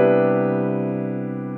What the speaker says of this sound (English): In this one we're going to be looking at a really nice voicing for a major 9 chord,